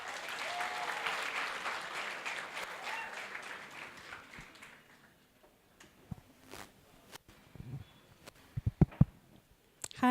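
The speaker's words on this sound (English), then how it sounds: "So please give her a big round of applause." Audience at a talk gives a round of applause, a dense wash of clapping that tapers off over about five seconds, followed by quiet room noise, small clicks and handling knocks.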